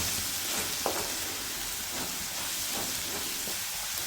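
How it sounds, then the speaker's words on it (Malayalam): Chicken curry masala stirred and mixed in a hot pan, a continuous steamy sizzle with soft scraping strokes of a spoon recurring every second or so. "ഇത് നന്നായിട്ടൊന്ന് ഇളക്കി നല്ലോണം ഒന്ന് ഇളക്കി യോജിപ്പിക്കണം"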